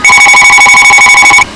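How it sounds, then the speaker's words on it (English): A telephone rings loudly in a workshop where composite structures are built, a rapid trilling electronic bell that holds steady, then cuts off abruptly near the end. "I had to take a break and answer the phone here"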